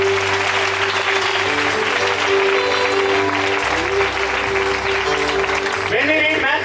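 A church congregation claps together at a bishop's consecration service, a dense, steady wash of applause throughout, with a sustained tone and a voice speaking beneath it.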